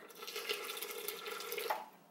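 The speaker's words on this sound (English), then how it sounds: "I'm gonna add a little water." Water runs into a blender jar as a faint, steady splashing trickle with a few brief drips.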